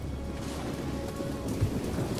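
Volleys of arrows from archers in the Total War: Rome 2 battle land as a dense, continuous patter like heavy rain, a steady wash of sound with no voices.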